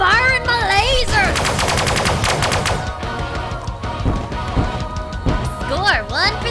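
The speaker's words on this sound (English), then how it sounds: "I'm firing my laser!" Rapid-fire laser bursts in the space combat video game Sunrider, loud and continuous, with sweeping electronic tones over a dense staccato of shots and music.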